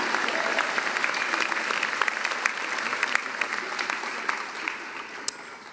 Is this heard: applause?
yes